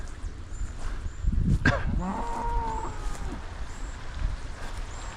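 Cattle on an open range give a low, drawn-out moo over quiet outdoor ambience, with a short tonal call following and faint bird chirps in the background.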